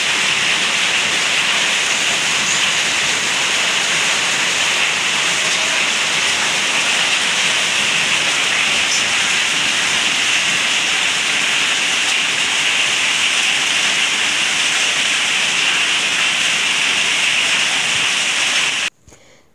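Heavy rain pours in a steady, dense roar for the whole stretch, loud and close with an even hiss, then cuts off abruptly at the end; no distinct thunderclaps stand out.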